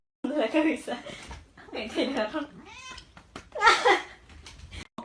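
A cat meows in a few drawn-out, close cries among people talking and laughing nearby, with the loudest call near the end.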